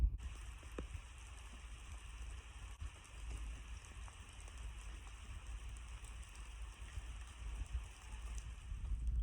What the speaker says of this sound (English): you can see the rain's coming down a little harder now